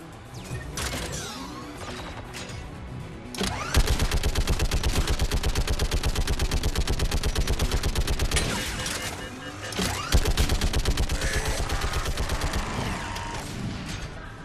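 Mounted turret gunfire in the video game Mass Effect 3: loud, rapid automatic bursts in a steady rattling stream, briefly pausing before a second sustained volley, with layered mechanical clatter and impacts.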